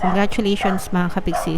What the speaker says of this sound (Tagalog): Pasensya na kayo sa tahol ng aso.